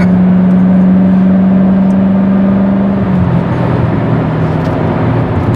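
A 1966 Chevrolet Corvette pulls away with a loud, steady engine drone close by, its pitch holding then dropping as the gear changes, with no talking over it.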